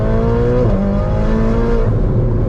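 A Ferrari 488 Spider's engine, heard from the cockpit on a Las Vegas desert drive, drones steadily and climbs in pitch as it revs toward its 8,000 RPM redline. The loud, continuous note runs throughout with no talk.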